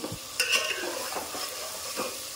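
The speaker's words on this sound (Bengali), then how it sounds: "এইরকম মাংসগুলোকে দিয়ে দিচ্ছি" Meat pieces added to onions in a hot pan, sizzling loudly and steadily up close while a spatula scrapes and stirs a few times, no one speaking.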